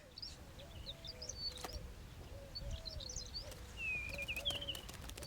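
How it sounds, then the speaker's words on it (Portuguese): Temminck's horned lark calling in the Negev desert: thin, high chirps and short trilled phrases repeated at a moderate distance, with a lower cooing bird underneath and faint wind in the background. "Um outro pássaro também luta por espaço e comida no Negev, a cotovia cornuda de Temnek."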